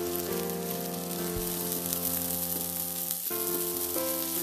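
Beef patties frying in a pan over a medium fire, a loud, dense, unbroken sizzle heard up close with a faint steady hum beneath and no talk.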